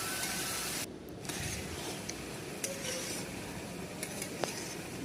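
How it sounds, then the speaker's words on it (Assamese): Bhol is stirred with fish in a pan, giving a soft, continuous scraping sizzle with faint clicks and knocks of the utensil against the pot. "ভোলখিনি মই লৰাই লৈছোঁ।"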